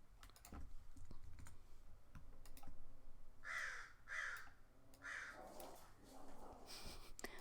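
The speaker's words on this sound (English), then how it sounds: "My dogs are chasing a crow, it sounds like." A crow caws three times in a quick series as dogs chase it, fairly close, over faint tapping and household background noise.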